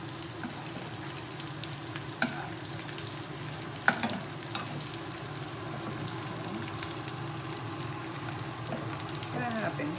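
Butter sizzling in a pan on low heat while making risotto, with a continuous soft frying hiss and a few faint clicks of a utensil, fairly quiet and steady.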